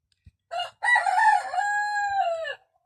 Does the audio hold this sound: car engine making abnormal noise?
no